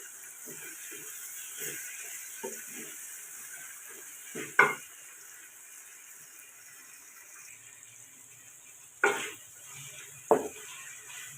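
Potatoes and small bone-in chicken pieces sizzle softly in a pan, with a faint steady frying hiss and scattered taps and a few louder metallic scrapes of a stirring utensil.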